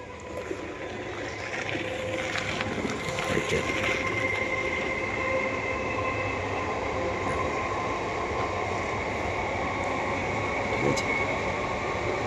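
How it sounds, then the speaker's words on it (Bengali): A train rumbles past steadily near Garia station, its wheels clattering with a faint metallic squeal, loud and continuous for the whole stretch. "ট্রেন মনে হচ্ছে একটা আসছে"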